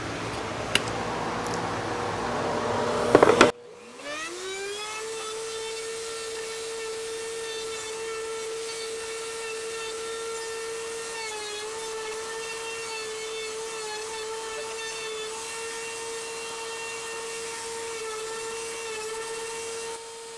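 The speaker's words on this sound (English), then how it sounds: "use the router table and a radius bit or a rounding bit in the router take a nice round edge to all this" Router on a router table spinning a rounding-over bit along a wood edge for a resin and wood wine caddy, a steady loud whine with a strong tonal hum that holds for most of the clip after a brief clatter at the start.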